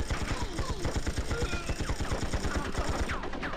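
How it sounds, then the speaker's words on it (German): Rapid automatic gunfire from the video game Tomorrow Never Dies, a dense run of bursts over about three and a half seconds with game sound effects layered in. "Ich schieße!"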